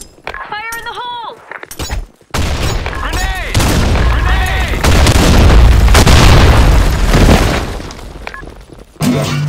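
A grenade goes off in the online shooter BlackShot with a loud, booming blast and a long rumbling tail, preceded by a shouted game voice line and followed by more in-game chatter.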